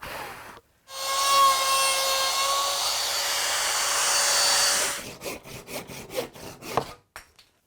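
Wood is sawn by hand, cutting a small wedge off ash lumber: a long continuous rasping cut, followed by a series of short, uneven back-and-forth strokes.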